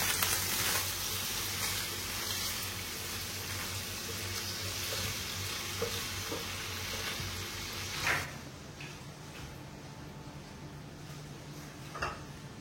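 Paneer fries in a pan at home with a steady crackling sizzle, close and moderately quiet, easing slightly partway through with a couple of light clinks of stirring.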